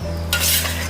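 A quick scrape of stirring egg fried rice in a pan, a brief close rasp of the spatula over a steady low hum of frying.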